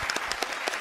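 Brief burst of audience applause at a televised dance talent show, scattered claps at moderate distance, steady throughout and without talk.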